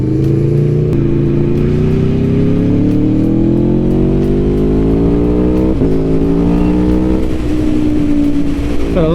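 A 2021 Aprilia Tuono V4 Factory motorcycle accelerating hard on a country road, its loud V4 engine climbing steadily through the gears in close, continuous rising roars with brief dips at each shift.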